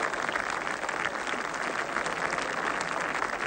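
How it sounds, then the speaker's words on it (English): Golf gallery at the 1977 Open Championship applauding a shot onto the green, a sustained wash of many hands clapping at a distance, even and unbroken for several seconds. "That's good applause."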